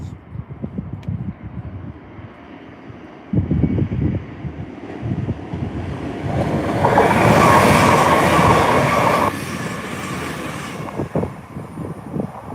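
A passenger train bound for Windermere or Barrow-in-Furness rumbles past nearby, the noise swelling to a loud sustained roar with rhythmic clatter, then easing off as it moves away.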